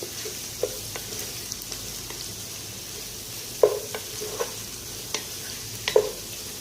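Chopped onion, garlic and green chilli frying in a pan, a continuous soft sizzle punctuated by sharp spoon taps and scrapes against the metal.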